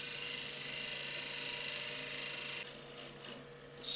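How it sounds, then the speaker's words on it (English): A wood lathe spins fast while a tool crosses a Koa natural edge bowl, giving a steady, close whine and rasp that holds for most of the stretch, then drops to a quieter, patchier scrape near the end. "Slow pace across the wood. Fast lathe speed."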